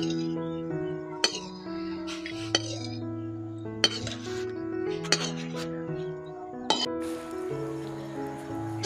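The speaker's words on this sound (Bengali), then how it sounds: "সব কিছু একসঙ্গে ভালো করে এইভাবে করে মিশিয়ে নিতে হবে।" Spoon clinking against a bowl while glycerin and oil are stirred together into a homemade foot-care mixture, sharp repeated taps over soft liquid swirling, with a voice talking over it.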